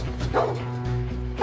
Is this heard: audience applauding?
no